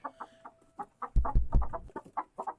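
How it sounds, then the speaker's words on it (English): Backyard chickens clucking in a short burst of several close, fairly loud clucks with a few quieter calls before and after. "I think that was chickens"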